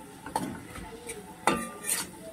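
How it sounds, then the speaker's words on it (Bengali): Spice paste for a Bhola fish curry is stirred and sautéed with a splash of water in a pan, giving soft scraping strokes and a few clinks over a faint sizzle, close and brief. "দিয়ে মশলাটাকে আমি একটু কষিয়ে নেব যাতে পুড়ে না যায়"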